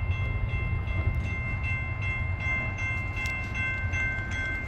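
A CSX freight train passes a rural crossing on a rainy morning near Brutus, New York, a steady heavy rumble with a sustained horn tone riding over it and faint rhythmic clicks.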